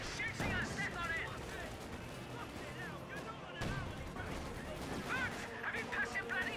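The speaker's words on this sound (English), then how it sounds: "Someone's shooting us!" Rattling gunfire and bursts of shooting in the real-time strategy game Company of Heroes 2, with British Royal Artillery forces in battle; steady faint volleys and sharper shots under shouted unit voices.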